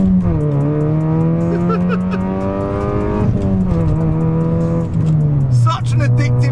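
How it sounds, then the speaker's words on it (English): A Toyota Yaris T Sport engine screams at high revs, repeatedly bouncing off the rev limiter in a stuttering, buzzing drone, close and loud, with brief dips between pulls. "when it hits the rev limiter, it just sounds so bloody good on the limiter"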